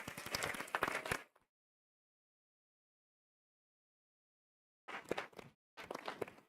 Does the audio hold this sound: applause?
yes